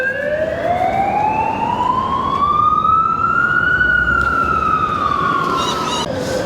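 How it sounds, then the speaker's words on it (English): An undercover police car's siren wails through Sydney city traffic on Liverpool Street, a loud, close, steady rising-and-falling tone that holds alone with no talk. "as we watch this police car undercover try to get through the traffic"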